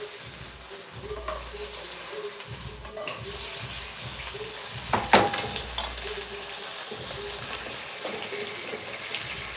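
Red potatoes sautéing in a pan give a steady soft sizzle with faint stirring and scraping, plus a brief louder clatter midway, and no talk over it.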